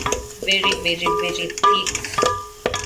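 A spoon stirs a thick white sauce paste of flour and milk for pasta in a pan, with repeated close scraping strokes in an uneven rhythm over a light sizzle.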